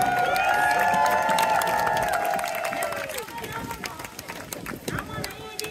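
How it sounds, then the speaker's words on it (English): A crowd applauds pumpkin carving artists at an outdoor Halloween event at a botanical garden, a dense wash of claps and cheers behind a loud voice speaking over it, the clapping thinning out toward the end. "One more round of applause for all three artists."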